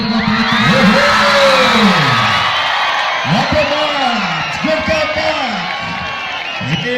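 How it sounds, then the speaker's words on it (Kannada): A packed crowd at a high-stakes kabaddi match between Alvas and ONGC cheers and whoops loudly and continuously, with shouts and yells rising over the roar. A voice calls out through the din. "ಒಂದು ಜೋರಾದ ಚಪ್ಪಾಳೆ ಬರಬೇಕು"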